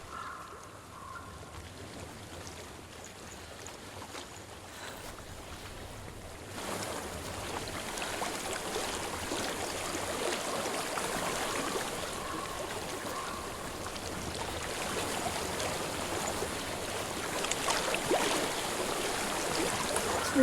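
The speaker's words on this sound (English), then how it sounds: "I hear water." Flowing stream water in the video game Hellblade, a steady wash of rushing water that grows fuller and louder partway through and then continues as a constant ambient bed.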